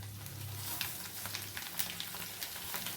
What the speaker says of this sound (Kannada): ಡಿಪ್ ಮಾಡಿ ಚೆನ್ನಾಗಿ ಫ್ರೈ ಆಗಬೇಕು